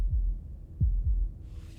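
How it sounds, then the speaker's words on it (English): Deep, muffled heartbeat thumps in the video game Slay the Princess, several low pulses in an uneven rhythm, close and heavy, alone with a faint hiss near the end. "That was the sound of a heartbeat"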